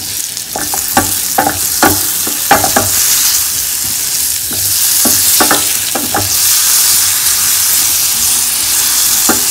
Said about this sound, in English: Brown sugar and nutmeg, and let it roast for 2 minutes.